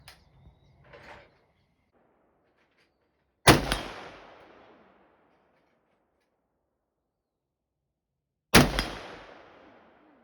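Two sharp, loud rifle shots from a PSA JAKL, roughly five seconds apart, each with a long echoing decay, after some faint handling clicks at the start.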